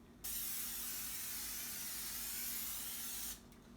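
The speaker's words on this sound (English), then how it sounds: "now all we have to do is put some Pam in our cake pan so that way our cake does not stick" Pam cooking spray misted into a cake pan, one steady hissing burst lasting about three seconds, close and loud, then cut off.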